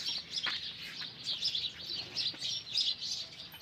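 Busy, overlapping chirps from several sparrows in a cattle shed, a steady twittering chatter with quick bursts rising and falling, fairly close.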